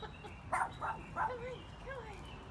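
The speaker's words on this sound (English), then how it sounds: "Can't see, but I'm getting barked at." A small dog, about knee-high, barks several short yips in a backyard, three sharp bursts close together followed by softer whimpering calls, moderately near against a quiet outdoor background.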